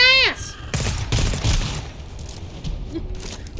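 Gunfire in the video game GTFO, with rapid bursts of shots in quick succession and loud, sharp cracks, mixed with a brief electronic tone and a voice shouting under the shooting.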